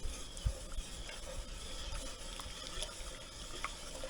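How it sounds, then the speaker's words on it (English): A wooden spoon stirs a cherry jam sugar mixture in a pot, giving a soft continuous scraping and swishing with a light knock near the start, quiet and close. "Now I will use my wooden spoon here and give it a stir because I need the sugar to dissolve"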